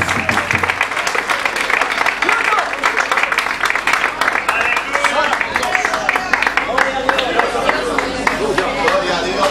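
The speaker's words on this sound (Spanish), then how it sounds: "Dale ese aplauso al Señor en esta noche" Congregation applauding during a church service, a dense steady wash of many hands clapping close and loud throughout, with crowd voices and cheers mixed in.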